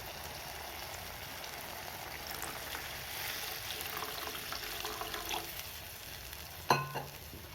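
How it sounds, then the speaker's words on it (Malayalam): Water poured into a hot pan of green chillies with turmeric powder, a steady close hiss and bubbling sizzle that builds midway, ending in a sharp clank of the pan or spoon. "ഇനി നമുക്കിത് മുളക് വേവിക്കാൻ ആവശ്യമായ കുറച്ച് വെള്ളം ഒഴിച്ചു കൊടുക്കാം കേട്ടോ"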